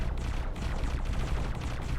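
A large cannon fires repeatedly in the space combat game X4 Foundations, loud booming blasts with rumbling low-end and crackling impacts coming in quick succession, dense and continuous with no voices.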